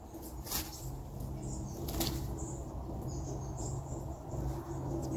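Quiet rural outdoor ambience in Tasmania, with crickets or insects trilling steadily, a couple of brief wing-flap or bird bursts, and faint birdsong among trees, soft and distant.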